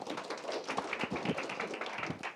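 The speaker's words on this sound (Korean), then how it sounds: "박수로 맞이해 주세요." An audience claps to welcome a speaker at a forum, a quiet, steady patter of many hands that runs the whole time without a break.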